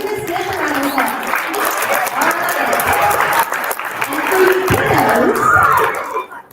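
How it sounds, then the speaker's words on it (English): Clapping from a school audience for a student at a time capsule opening, fairly loud and steady, with a few voices and murmurs mixed in as it continues. "Let's give this Miss a round of applause."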